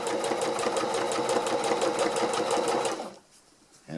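A sewing machine stitching a long seam on a hex tarp, a fast rhythmic mechanical chatter, loud and close, running steadily before stopping abruptly near the end.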